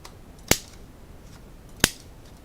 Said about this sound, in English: I'm just going to corner around all 4 edges on the card base